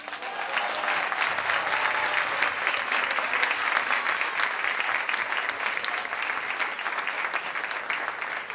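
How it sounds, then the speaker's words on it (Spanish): Audience applause at a Christian music festival in Coquimbo, a dense, sustained wash of many hands clapping at a steady level, slightly distant and continuous throughout. "quiero que le brinden un fuerte aplauso"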